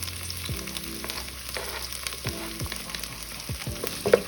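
Sliced onions fry in oil, giving a steady crackling sizzle up close, punctuated every second or so by sharp scraping strokes of a spoon stirring the pan.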